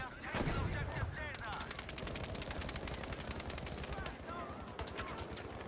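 An M1922 machine gun fired from the hip in Battlefield 5 sounds as a long, rapid automatic burst of evenly spaced shots, loud and close. It runs for most of the stretch, with an excited voice speaking over it.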